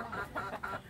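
A fighting rooster, a gamecock, clucks in three short close bursts in quick succession with no other sounds around it.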